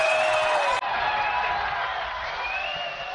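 Studio audience crowd noise welcoming magician Liu Qian onto a Chinese New Year variety show stage, a steady wash of cheering and clapping that holds at an even level and fades slightly toward the end, with music or tones above it.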